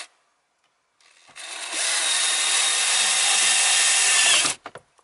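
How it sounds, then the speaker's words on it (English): A power screwdriver drives screws into the plastic dashboard of a Toyota car from the 2000s, one steady whirring run of about three seconds, fairly close and with no talk over it. "Now I can use also screwdriver."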